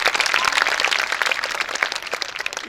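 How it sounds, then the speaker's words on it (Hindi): An audience claps loudly to welcome a charitable organization at a gathering, a dense and continuous patter of many hands that holds steady throughout. "जोरदार ताली बजा के स्वागत करिए इसका।"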